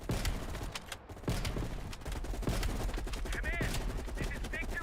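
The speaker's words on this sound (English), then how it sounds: "you readied your sniper rifle to assist" Rapid, dense gunfire in Call of Duty: Black Ops Cold War, loud repeated shots and sharp cracks amid a battle din, with muffled radio voices and mechanical clatter underneath.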